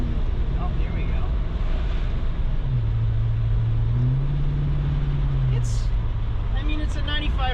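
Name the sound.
1995 Ford Mustang GT engine while shifting gears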